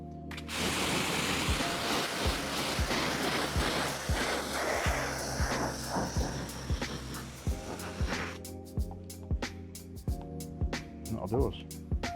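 Strong wind blows outdoors, buffeting loudly in a continuous rushing roar with rumbling gusts.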